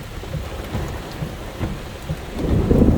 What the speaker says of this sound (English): Oh, it's thundering now.